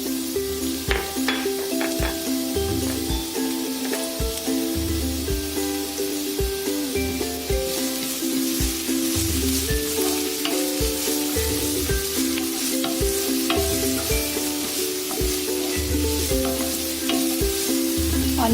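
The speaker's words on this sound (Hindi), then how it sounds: "ऑनियन को भी लाइट कुक कर लेते हैं।" Onions sauté in a pan with a steady close sizzle and frequent stirring scrapes, loud and continuous through the whole stretch, with no voices.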